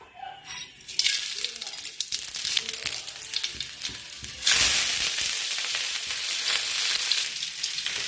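Mustard seeds hit hot oil for a thuvarai kottai rasam, starting as a soft crackle and swelling midway into a loud, steady sizzling hiss with scattered pops, with no voices.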